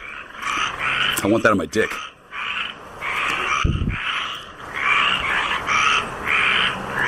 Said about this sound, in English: Do you hear these frogs?